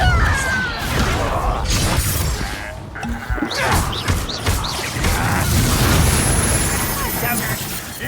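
Spell blasts and explosions from the Hogwarts Legacy video game burst in a rapid, dense series of loud crashes, booms and shattering impacts, overlapping with swooshing effects and a voice calling out over the din.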